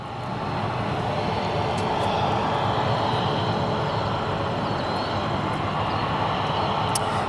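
An Icelandair airliner in Independence livery taxis toward its gate at Terminal 5 at O'Hare, a steady, moderately loud engine rumble and whine that holds evenly throughout with no talk.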